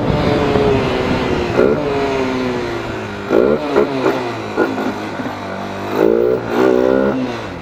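A 250 cc motorcycle revs hard during acceleration, its engine climbing in pitch in repeated loud, close bursts against the rev limiter, with a steady idle rumble between them.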